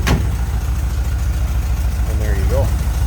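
A 1973 Porsche 914's flat-four engine idles steadily and smoothly in a low, even drone throughout, heard up close with a brief sharp noise at the start.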